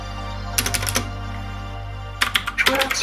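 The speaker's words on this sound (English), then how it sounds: "I listen to the typing sounds of the keyboard" Two quick bursts of crisp, clicky keystrokes on a mechanical blue-switch keyboard separated by a pause, close and clear, with a low steady hum beneath.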